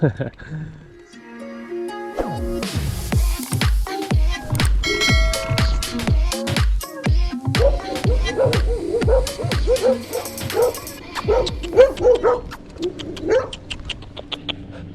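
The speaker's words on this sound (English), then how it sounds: "There's a lot of dogs, huh?" Several dogs bark and yip repeatedly along a roadside in Albania, close and loud, with rapid overlapping barks at first, then higher yelps and whines later; a person speaks at times.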